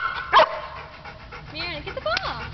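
A small dog pants and lets out short yips and a bark during indoor play over a ball, fairly close, with a person talking at times.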